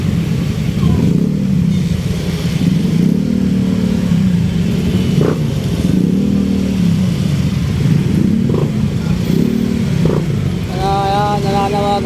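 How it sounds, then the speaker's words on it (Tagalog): Busy street traffic at a Baesa corner, with car and motorcycle engines rumbling and revving close by, a horn-like tone near the end, and faint background voices. "Ubos-ubos yung traffic dito."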